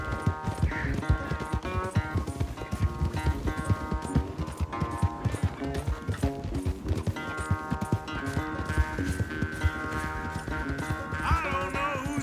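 Horses in a Red Dead Redemption 2 race gallop in a dense, rapid drumming of hooves, close and continuous, with occasional whinnies and a tonal game score underneath.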